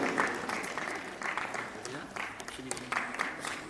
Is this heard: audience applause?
yes